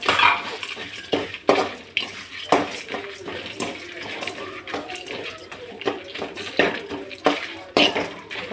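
Coconut and spices roasting in a pan are stirred with a utensil, giving repeated scraping and clinking strokes at an uneven rhythm over a soft sizzle, with a voice talking intermittently.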